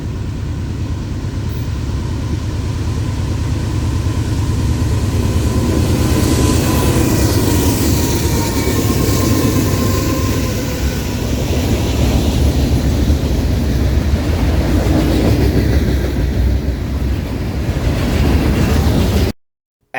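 A southbound slab steel freight train passes at Pine Hill, Alabama, its broad, loud rumble holding steady for nearly twenty seconds with squeals and clatter from the wheels, then cutting off abruptly.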